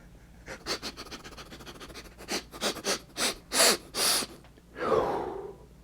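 Someone sniffs at a plastic Warhammer 40,000 Tyranid Norn Emissary miniature, giving a run of sharp, close nasal inhales that grow louder, then a long drawn-out breathy exhale.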